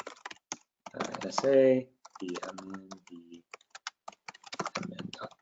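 Computer keyboard typing while entering a Vault access policy, a patter of quick key clicks mixed with someone talking through it, the keystrokes scattered between and under his speech.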